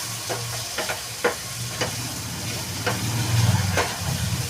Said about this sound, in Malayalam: എല്ലാം കൂടി നല്ലോണം ഒന്നിട്ട് നല്ലോണം ഒന്ന് ഇളക്കി ആ വെള്ളമൊക്കെ ഒന്ന് ആ ജലാംശമൊക്കെ ഒന്ന് നല്ലോണം ഒന്ന് വറ്റട്ടെ